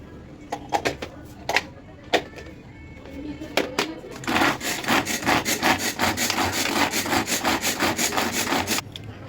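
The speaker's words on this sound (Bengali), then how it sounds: "এবার এটাকে আবার গ্রেট করা হবে" Vegetables being grated for upma batter: a few scattered taps and scrapes, then a run of fast, rhythmic rasping strokes against the grater, close and fairly loud, stopping abruptly near the end.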